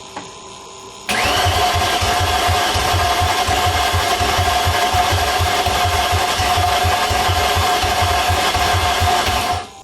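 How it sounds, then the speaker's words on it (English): A 1995 BMW 530i with fuel and ignition trouble cranks and catches after a quiet second, then runs loud and close with a steady, slightly rough idle until the end. "The engine runs at this point,"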